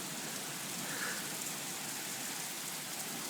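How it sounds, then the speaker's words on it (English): Heavy rain falls during a thunderstorm, a dense, even hiss of drops on surfaces that holds steady throughout, with no thunder or voices. "And the rain is coming down like no one's business."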